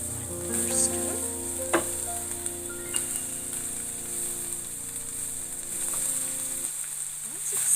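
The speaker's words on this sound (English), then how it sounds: "so I'll just stir it up a little bit" Shredded cabbage sizzles and crackles in a hot pan as it is stir-fried for chilli garlic noodles, a loud, steady frying hiss with occasional spatula scrapes, cutting back to a quieter hiss near the end.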